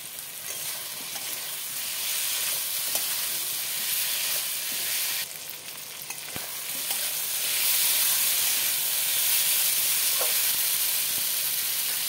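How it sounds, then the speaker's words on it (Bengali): Potato and pointed gourd pieces sauté in fried spice paste for a giant prawn curry, a continuous close sizzle and hiss with occasional stirring scrapes, swelling louder in the second half. "সবজিটা কষানো হয়ে গেছে"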